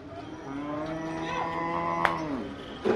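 A Khillar bull lows at a cattle market, one long, close, moaning moo lasting nearly three seconds, with faint background noise and a brief knock near the end.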